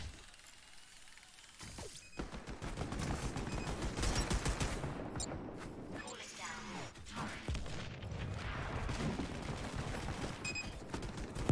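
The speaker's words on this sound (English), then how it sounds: "Lots of guns, lots of boom booms." Gunfire and explosions in the FPS game LEAP make a fairly quiet, dense battle din: bursts of shots and booms layered continuously, with someone speaking over them.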